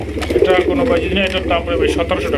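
Large pigeons, a female and a male pair, coo repeatedly and fairly close by in a bird market, with people talking over them throughout.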